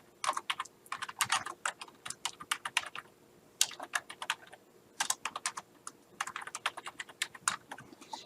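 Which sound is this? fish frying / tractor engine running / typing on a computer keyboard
typing on a computer keyboard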